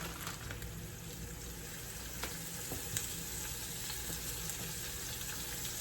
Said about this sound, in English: When you hear that sizzle, that's really what you want when you're cooking.